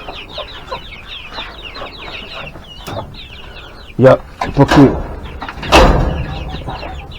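Chickens cluck and squawk steadily close by in a henhouse, with a person speaking briefly in Ukrainian and some louder knocking and rustling partway through as the hens are let out.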